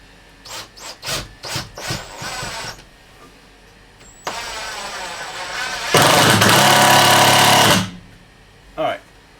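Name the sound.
drilling wood batten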